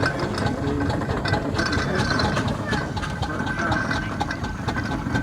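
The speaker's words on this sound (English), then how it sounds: "It's a four-engine winding engine." A steam-powered four-engine winding engine runs with a steady, low mechanical rumble and faint rhythmic clanks, while people talk nearby throughout.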